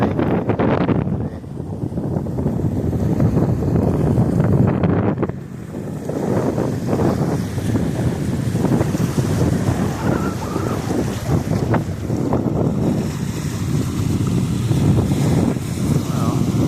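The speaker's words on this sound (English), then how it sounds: "The inner harbor is more choppy than the lake." Wind and choppy water in the inner harbor at Park Point, a steady, loud rush of gusting air over lapping waves, continuous throughout with no talk.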